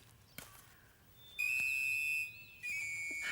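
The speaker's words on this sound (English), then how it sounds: "W is for whistle." A shrill, steady whistle note sounds in two long blasts after a quiet start, loud and near, with a brief break between them.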